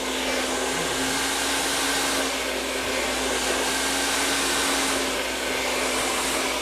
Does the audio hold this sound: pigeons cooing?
no